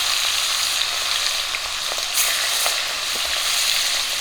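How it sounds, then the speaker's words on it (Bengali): Steady, loud sizzling of large river boyal fish frying in hot oil, a dense crackling hiss with small pops throughout and no voices. "তেল গরম হয়ে গেছে মাছ দিয়ে দিচ্ছি"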